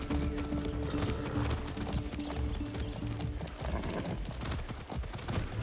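Horse hooves clip-clop steadily during a ride in the Far Cry 6 video game, a continuous rhythmic trotting under game music and ambience, with no talk.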